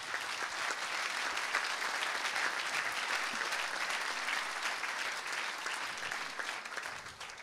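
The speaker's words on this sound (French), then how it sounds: "Je crois qu'on peut les applaudir." Audience at a chef of the year award ceremony applauding steadily, a thick, even wall of many hands clapping that holds for several seconds and tapers slightly at the end.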